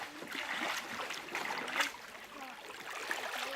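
Canoe paddled along a river in Brazil, soft rhythmic water splashes and trickles from the strokes, close and fairly quiet, with no voices.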